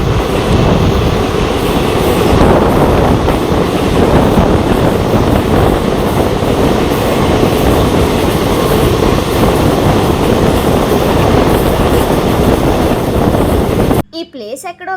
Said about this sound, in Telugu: ఇప్పుడు చూడండి ట్రైన్ అండర్ గ్రౌండ్ లోంచి వెళ్తుంది.